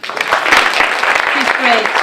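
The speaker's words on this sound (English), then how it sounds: "Big applause." Brief burst of audience applause at a PechaKucha Night event in Umeå, a dense clatter of clapping with a few voices mixed in.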